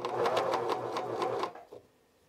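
A cover stitch sewing machine runs briefly while attaching binding, a fast rhythmic mechanical chatter of the needles lasting about a second and a half before stopping, close and alone.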